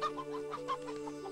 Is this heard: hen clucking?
yes